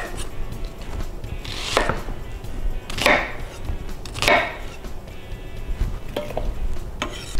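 Knife chopping a white sweet Vidalia onion into rustic slices for roasted vegetables, a few separate thuds on a cutting board spaced about a second apart, close and moderately loud.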